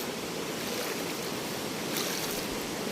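River water flowing by Malapat bridge in a cold camping spot, a steady broadband rushing wash that continues evenly throughout with no voices.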